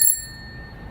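A bell on a human-powered racing bicycle gives a single bright ring that sounds loud at first and then fades, with steady background noise underneath.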